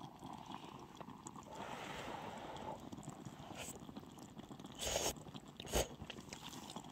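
Someone eating a thick tuna-flavoured jjamppong-style ramen, with soft wet chewing and slurping close up over a constant background hiss and two louder bursts near the end.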